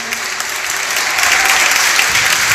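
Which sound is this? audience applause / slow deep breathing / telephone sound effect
audience applause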